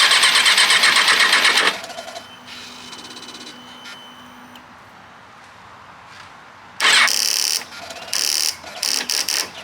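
Starter on a Kawasaki 636 motorcycle with a dead battery cranks close by in a harsh, buzzy burst, falls quiet for several seconds, then returns in a string of short, choppy cranking bursts that never catch; no talking.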